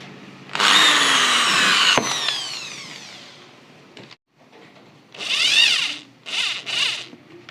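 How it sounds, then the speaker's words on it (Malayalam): A power drill drives a screw into a PVC well door, one long whirring run that winds down, then a few shorter rising and falling bursts of the motor, close and loud. "ഒരു സ്ക്രൂ അടിച്ചു കൊടുക്കുക."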